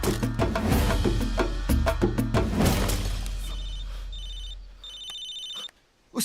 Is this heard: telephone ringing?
yes